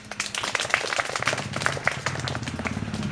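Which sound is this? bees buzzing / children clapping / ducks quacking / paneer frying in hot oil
children clapping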